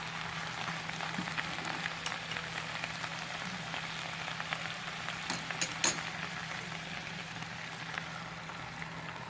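Pumpkin, carrot and pork stir-fry in a pan with a steady, close sizzle and a few sharp scraping clicks from stirring partway through.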